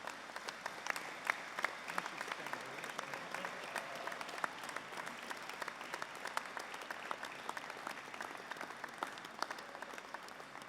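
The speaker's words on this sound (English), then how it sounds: "A round of applause for all of those sat in front of me." A graduation ceremony audience applauds steadily for about ten seconds, a dense, even wash of many hands clapping at a distance, with no voices standing out.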